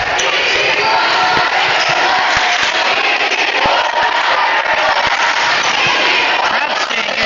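Crowd noise at a high school basketball game between Pleasant Grove and American Fork, loud, continuous cheering and hubbub from the stands, with scattered sharp shoe squeaks and bounces beneath.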